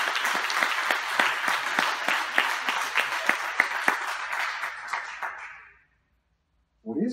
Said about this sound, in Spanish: Yo quiero un aplauso fuerte.